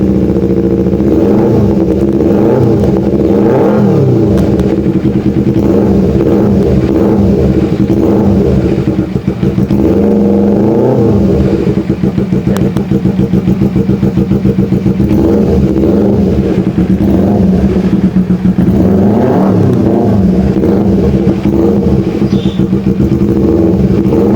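A Kawasaki Ninja 250 FI with a Pro Liner aftermarket exhaust idles loudly and steadily, with gentle throttle blips swelling the rumble every few seconds, close up and without any talking.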